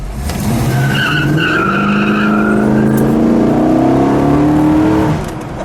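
A 1969 Dodge Daytona Charger with a 426 Hemi engine revs and accelerates steadily, its rising whine loud and close, with a brief tire squeal partway through.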